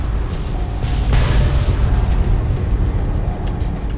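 Explosions rumble in Fallout New Vegas Lonesome Road, a loud, heavy, continuous low roar with a sharper burst just after the first second, then sustained booming.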